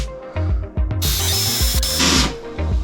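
A power drill bites into bathroom tile, its motor whirring in short bursts that rise into a loud, grinding high-pitched scream as the bit cuts, close up with no talking.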